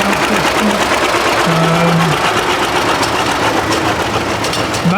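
A vintage Ferguson-era tractor engine runs at the Clwyd Vintage and Steam Rally, a loud, steady, close mechanical chug that holds throughout, with faint voices at moments.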